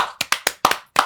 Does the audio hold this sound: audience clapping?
yes